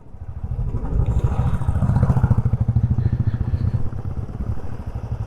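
A motorcycle engine chugs nearby with a fast, regular throb that swells and fades slightly over several seconds, riding through forest in Bandipur Tiger Reserve, Karnataka.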